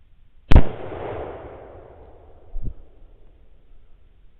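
A single sharp rifle shot cracks out during a hog hunt with a Pulsar Trail XQ38 thermal scope, loud and close, trailing a long rolling echo, followed about two seconds later by a dull distant thump.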